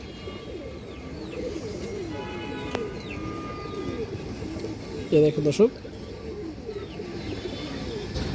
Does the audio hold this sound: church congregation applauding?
no